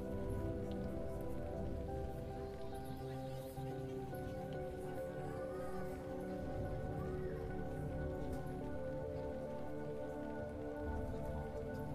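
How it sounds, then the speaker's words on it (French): Steady rain falls in Lord of the Rings Online, a dense, continuous patter of drops on surfaces with an even, unbroken hiss throughout. "Mais avec la pluie, c'est pas terrible."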